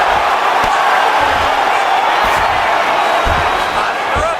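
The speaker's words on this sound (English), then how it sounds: "the crowd pops in appreciation as the fighters work their way back" A UFC arena crowd roars steadily during ground grappling, a dense, loud wash of cheering with a few sharp thuds and slaps cutting through it.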